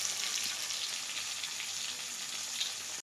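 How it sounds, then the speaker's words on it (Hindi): Fish sizzles and crackles in hot oil in a pan, a dense, steady frying hiss that continues unbroken and close until it cuts off abruptly. "एबे पहड़ा माछ भजा होची तेल टिके कमिगला"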